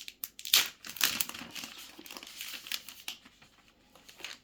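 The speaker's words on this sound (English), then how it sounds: "I need to take off the plastic somehow" Plastic wrapping being pulled off a boxed package, heard as a close, continuous run of crinkling and crackling with a few louder tearing rustles, no talk.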